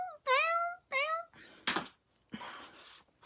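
A domestic cat meows twice indoors, loud and close, two clear drawn-out calls in quick succession, followed by a few soft thumps and rustling.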